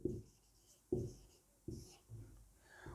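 Chalk or marker writing on a board during a nutrition lesson, a series of short scratchy strokes about every second, close and fairly quiet, with no talk.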